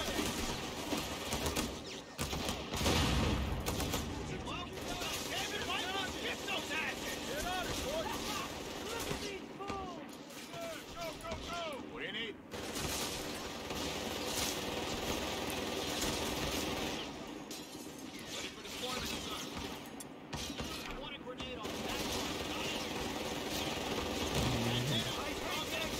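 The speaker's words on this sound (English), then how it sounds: "Damn Krauts have a machine gun." Bursts of machine gun fire in the World War II strategy game Company of Heroes 3, set in an Italian campaign, rattling at intervals through ambient battlefield noise with birds cooing and soldiers' voices talking over it.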